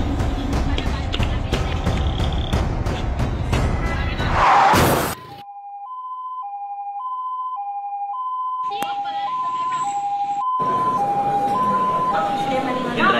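An ambulance siren in a school stage play by Grade 8 students wails in a steady two-tone pattern of alternating pitches after noisy crowd clamor and a loud crash, partly alone, then beneath renewed stage noise.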